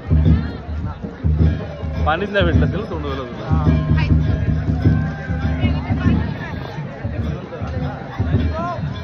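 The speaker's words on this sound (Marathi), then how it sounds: "आणि हळूहळू गर्दी वाढत चालली." A crowd gathers for an event at Raigad fort, with busy overlapping chatter and bustle all around. Nearby voices speak up loudly over the general hubbub.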